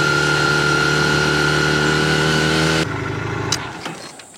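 A car engine drones steadily under load while climbing a steep hill in a large city, then the pitch drops as the driver eases off, with a faint click near the end.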